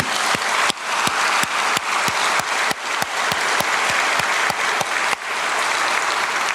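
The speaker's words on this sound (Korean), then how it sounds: "우리 유재명 목사님 네 분 위해서 박수 한번 해주세요" A Korean church congregation at an autumn revival meeting gives a round of applause, dense and loud, with sharp rhythmic claps punctuating it at a steady beat.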